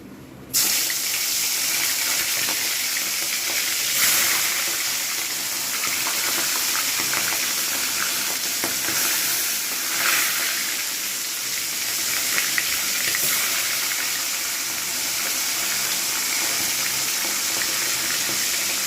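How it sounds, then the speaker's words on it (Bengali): Hilsa fish fry in very hot oil for a mustard hilsa dish, a loud, steady, close sizzle with a constant bright hiss and no talk. "এইবারে আমি মাছগুলো ভেজে নেব"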